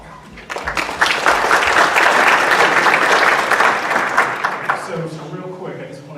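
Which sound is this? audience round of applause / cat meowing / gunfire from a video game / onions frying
audience round of applause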